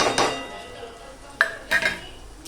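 A metal spoon scraping and clinking against a pan while capsicum is stirred into a homemade paneer curry, a few sharp close knocks among quieter scraping.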